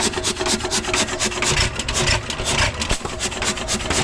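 A saw rasps back and forth through a wooden log at an engineering show, a steady run of rhythmic strokes close by and loud, with the chug of a hit-and-miss engine nearby.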